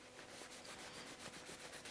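Soft, steady rubbing of a terry cloth paper towel against a crayon fishing lure, a fine rhythmic scuffing close up and quiet.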